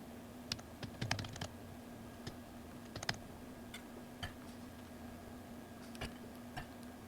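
Quiet, close typing on a computer keyboard, scattered clicks and short irregular bursts of keystrokes over a faint steady hum.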